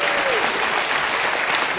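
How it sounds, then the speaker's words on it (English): Applause from a church conference audience, a steady dense wash of clapping lasting under two seconds, loud and close, with no voices rising above it. "Let's give Brother Roman a round of applause."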